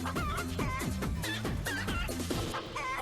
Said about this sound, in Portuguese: estava perto de um local de apostas de rinha de galo